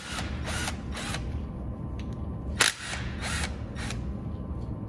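A power tool removes the timing chain tensioner bolts on a Ford 3.5 EcoBoost engine, with several short bursts of whirring, a sharp metallic clack midway, and a steady background hum.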